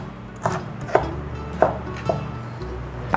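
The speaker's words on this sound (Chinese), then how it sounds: "把姜切片，把姜切丝" A knife chops ginger into thin slivers on a cutting board, with five sharp, evenly spaced taps standing out clearly against a quiet kitchen background, no talking.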